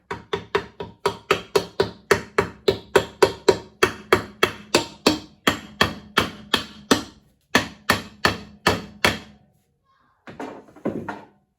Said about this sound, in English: need the hammer just to give it a gentle tap